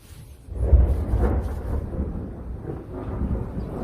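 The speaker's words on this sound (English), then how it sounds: "Thunder." Thunder rolls in after a quiet start, a deep rumbling roar that swells and then lingers for several seconds during a storm, heard alone without talk.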